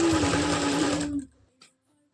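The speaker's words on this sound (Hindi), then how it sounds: "अब इसी तरह से दूसरी तरफ से हमें यहाँ से सिलाई शुरू करनी है" A sewing machine runs steadily as it stitches palazzo pants, a loud, even whirring hum. It stops after about a second, and a few faint clicks follow.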